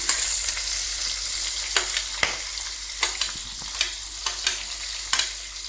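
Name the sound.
cinnamon, cloves, cardamom, bhut jolokia and onion frying in oil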